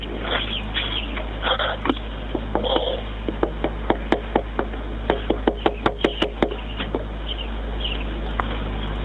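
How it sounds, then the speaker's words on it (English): Knocking on a door in a played recording, a run of sharp raps in quick bursts that grow denser toward the middle, heard fairly clearly over a low steady hum. "and she knocks on the door."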